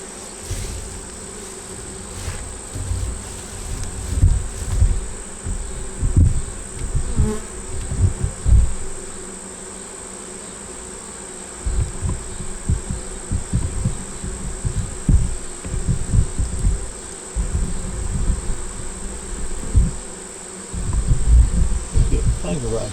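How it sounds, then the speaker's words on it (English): Honeybees buzz loudly around an open hive during smoking, a dense, continuous droning hum that swells and fades as insects fly close to the microphone, with a steady high whine running underneath throughout. "Okay, see those bees?"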